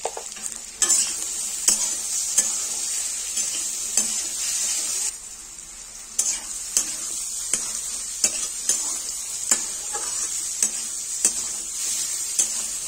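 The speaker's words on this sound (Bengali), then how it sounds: "কুঁদরি আর আলুটা ভাজা ভাজা হয়ে গেছে।" Ivy gourd and potatoes fry in a pan with a steady sizzle, while a utensil scrapes and stirs in regular close strokes about every second.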